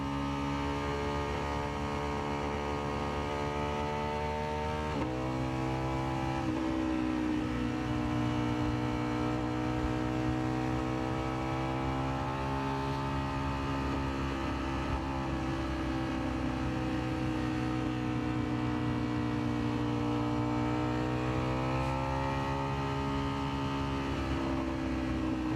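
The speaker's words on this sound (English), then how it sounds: "I have this Ducati here to get me there in style." Ducati motorcycle in a video game, a steady droning engine tone that dips and rises in pitch as it shifts and accelerates, continuous and fairly close with no talking.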